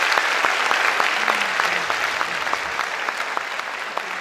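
An audience at a school music night gives loud, sustained applause, a thick, even roar of many hands with a few sharper individual claps standing out.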